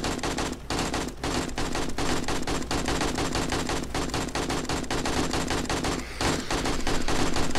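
Dense, continuous gunfire in the zombie survival game 7 Days to Die during a wandering horde attack, rapid overlapping shots sustained at a steady loud level, with no talk.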